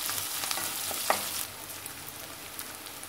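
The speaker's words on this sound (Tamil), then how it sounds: "வெங்காயம் கொஞ்சம் நல்லா வதங்கட்டும்." Onions sautéing in a pan sizzle loudly and steadily, with a few stirring scrapes and a sharp clink near the middle before the hiss settles a little quieter.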